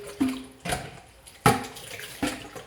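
Running tap water rinses a juicer part in a sink, with a few splashy surges as the part is moved under the stream, close and fairly quiet.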